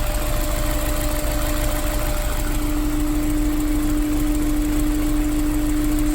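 A Honda S2000 engine idles steadily with a slight misfire, a low rumble and a faint, slightly uneven beat, close by and continuous with no talking.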